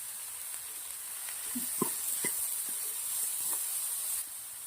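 Spices roasting in a pan for mushroom masala — asafoetida, crushed sesame seeds and rock salt — give a steady soft sizzle and hiss, with a few small pops and crackles over the frying.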